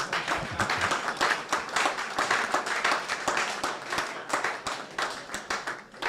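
Sporadic applause from a small audience at a university press briefing: a modest patter of overlapping hand claps, uneven and fairly quiet, continuing for several seconds with no voices on top.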